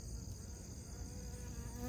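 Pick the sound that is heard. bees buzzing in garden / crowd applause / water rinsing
bees buzzing in garden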